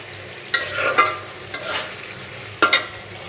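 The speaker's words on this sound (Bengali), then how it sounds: "আমার তরকারি কষানো প্রায় শেষ।" Hilsa fish curry with vegetable stalks, oily and nearly finished, being sautéed in a pan: a low sizzle under a few distinct scraping stirs and sharp spoon knocks, near and intermittent.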